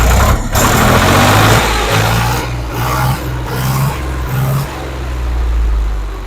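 A tractor engine runs steadily close by, a low throbbing rumble with a slight rise and fall in pitch and no voices.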